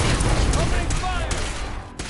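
Gunfire from Institute forces in Fallout 4, a burst of loud rapid shots with some crackling energy-weapon texture, fading over two seconds, with a voice mixed in.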